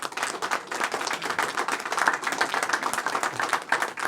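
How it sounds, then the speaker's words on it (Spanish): Congregation in a church service claps together, a loud and fairly even stream of individual hand claps that rises slightly midway and carries on without letup. "Dele un aplauso fuerte a nuestro Dios"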